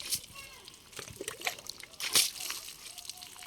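Cold water is splashed onto a buffalo in summer, giving a few quiet, irregular splashes and sloshes close by, with faint voices in the background.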